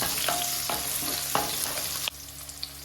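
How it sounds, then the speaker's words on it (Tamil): Onion and green chillies sautéing in a pan for foxtail millet kichadi: continuous close frying sizzle with a few sharp stirring scrapes, the hiss dropping noticeably near the end, no talking. "ஆனியனோட சேர்த்து பச்சை மிளகாவும் நல்லா வதக்கிக்கோங்க"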